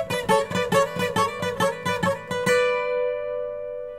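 Requinto guitar playing a fast passage of a song, a quick run of bright plucked notes over about two and a half seconds, then one final note left ringing out and fading, with no voices.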